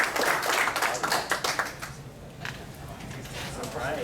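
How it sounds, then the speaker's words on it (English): An audience at a Republican political forum in Houston bursts into applause, with brisk clapping that is loudest at first and then thins out, while voices talk over it. "let's give a big round of applause to all you guys"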